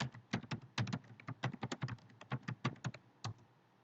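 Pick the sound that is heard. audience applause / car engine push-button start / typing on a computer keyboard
typing on a computer keyboard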